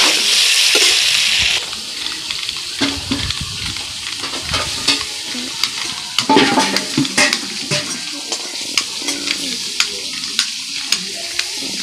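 Ridge gourd with salt frying in oil in a pan, a steady sizzle with spatula scrapes and stirring clinks against the metal, close and continuous.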